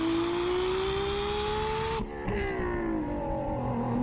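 A supercar engine from an Unturned modded video game, sounding much like a Nissan GTR, holds a steady high drone that climbs slowly, drops abruptly for a moment as if shifting, then carries on loud and close.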